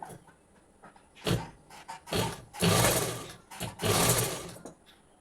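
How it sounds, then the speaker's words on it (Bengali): A sewing machine stitching a belt piece onto a garment along chalk marks, running in several short close bursts with brief pauses between, the longer runs near the end loud and steady. "বেল্ট পার্টটিকে বসিয়ে নিয়েছি এবারে আমি সেলাই করে নিব"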